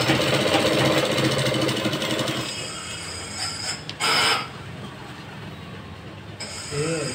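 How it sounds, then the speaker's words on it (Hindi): A sewing machine runs steadily while stitching the bottom hem of a salwar, a close, continuous mechanical whirr that fades out partway through, leaving a few light handling clicks. "आपको एक दाब छोड़ के इस पर सिलाई मार लेना।"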